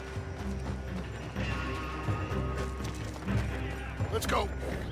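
Horse hooves clip-clop amid Red Dead Redemption 2 game action noise, with a brief whinny near the end and voices underneath.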